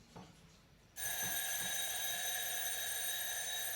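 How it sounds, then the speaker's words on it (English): An alarm starts abruptly about a second in and rings steadily, loud and close, to the end, after a quieter stretch with faint background noise. "that's the alarm."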